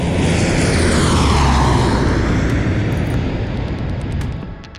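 A CAL FIRE C-130H firefighting aircraft's engines roar loudly and steadily for several seconds, a broad, dense propeller drone that fades slightly toward the end.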